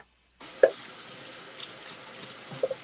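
Water runs steadily from a tap into a sink. The flow starts abruptly, holds a constant hiss, and a couple of faint clinks sound near the start and the end.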